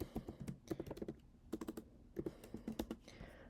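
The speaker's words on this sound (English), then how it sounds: "So as Gamma, if I want to write hi, how are you," Quick bursts of computer keyboard typing as a short chat message is entered in an online poker game lobby, close and clear, with irregular clusters of keystrokes and brief pauses.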